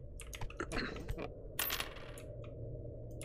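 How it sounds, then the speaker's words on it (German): Coins are dropped into a wooden shrine offertory box in the Japanese horror game Ikai. A quick run of sharp metallic clinks and clatters sounds close and clear, with a second burst after a short pause, over quiet room tone. "First, drop some money in the offertory box."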